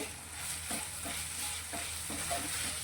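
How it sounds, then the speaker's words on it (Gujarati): Flattened rice (poha) and raw potato sauté in a lightly oiled pan with salt and turmeric: a steady soft sizzle with repeated scraping stirs of a spoon at a fairly even rhythm, close and alone. "પૌવા આપણા થોડા સોફ્ટ થાય ત્યાં સુધી તેને સાતળવાના છે"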